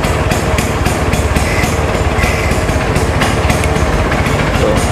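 A Vespa VBB scooter's two-stroke engine idles steadily up close, a loud, even ticking putter with regular pulses and no talk over it.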